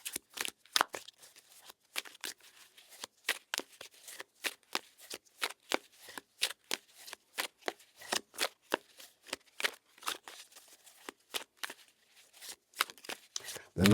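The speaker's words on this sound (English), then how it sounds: "I'm shuffling the other deck for new messages" A deck of tarot cards shuffled by hand, with a steady run of crisp, close riffling snaps and flicks that continue for the whole stretch with no voice over them.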